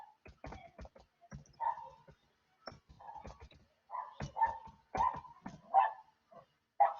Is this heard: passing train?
no